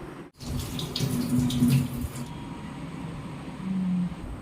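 Water runs from a tap and splashes into a bowl as rice is rinsed, briefly swishing, then the flow eases off; no speech.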